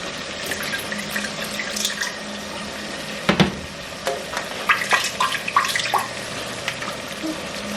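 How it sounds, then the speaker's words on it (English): Water pours into a blender holding mashed potato paste for dum aloo, a steady close splashing stream with a few louder gurgles and bursts partway through, no voices. "I'm gonna use a little water here."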